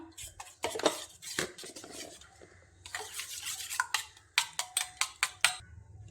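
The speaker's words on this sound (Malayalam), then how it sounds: "ഇതെല്ലാം കൂടി നന്നായിട്ടൊന്ന് മിക്സ് ചെയ്തെടുക്കാം" Egg being mixed with salt, chopped onion and green chilies in a bowl, with a utensil clinking and scraping against the dish, ending in a run of quick rhythmic taps.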